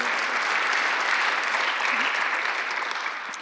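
A church congregation claps during a Sunday worship service, a dense, steady wash of many hands that holds evenly throughout and tapers slightly at the end.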